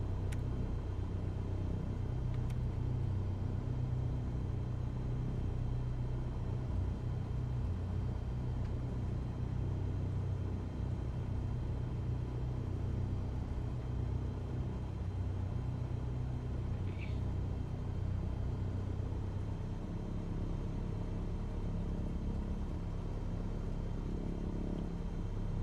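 A small aircraft engine runs steadily just after start-up, a constant low rumbling drone that fills the whole stretch at an even level without talk, with only a faint click or two above it.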